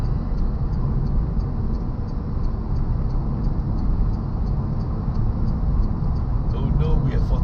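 Steady road noise from inside a Renault Zoe electric car as it pulls out to overtake, a constant tyre-and-wind rumble with faint ticking throughout.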